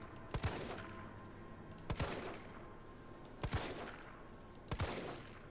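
Four evenly spaced, close, loud gunshots fired at zombies in Resident Evil 3, each a sharp crack with a short echoing tail over a low ambient hum.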